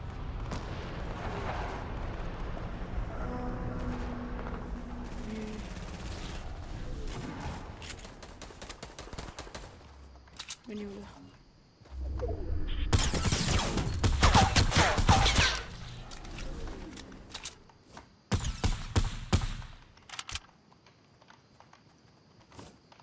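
Bursts of rapid gunfire from a video game, dense volleys in the middle and scattered shots later, with clattering effects between.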